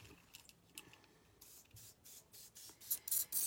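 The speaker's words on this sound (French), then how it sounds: "Et donc, je m'arme d'un spray." An aerosol can of spray paint is sprayed over a flower stencil in a few short, soft hissing bursts, quiet at first and louder toward the end, with faint handling noises between them.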